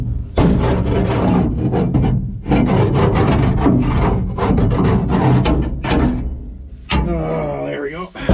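Rotten grain being scraped out of an International 303 combine, a loud, dense run of rough wooden scraping and rasping strokes in bursts with short pauses, up close and dusty, with a person talking near the end.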